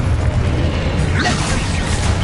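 Confringo spell going off in the Hogwarts Legacy video game, a dense mechanical, booming burst with creaking texture rising over a constant low game-sound bed, loud and close.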